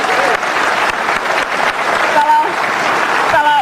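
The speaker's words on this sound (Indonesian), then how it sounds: "Kasih tepuk tangan dong untuk Bang Rocky." Studio audience applause on an Indonesian talk show about football match-fixing, a loud dense burst of clapping with crowd noise and voices mixed in.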